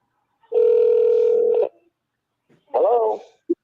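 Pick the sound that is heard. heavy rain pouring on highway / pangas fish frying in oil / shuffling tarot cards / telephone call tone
telephone call tone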